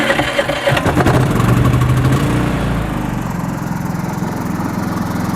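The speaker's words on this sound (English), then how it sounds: "Now the generator's running." A small 3500-watt portable generator fires up with a brief starting clatter, then settles into a steady, loud running drone close by, with no voices over it.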